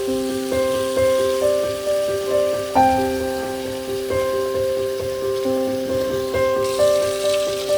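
Tap water streams into a cooking pot, a continuous splashing run with ringing tones that shift in pitch as the pot resonates.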